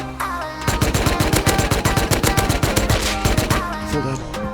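AK rifle fire in a video game, a loud rapid automatic burst of closely spaced shots with a brief break partway through, close and alone.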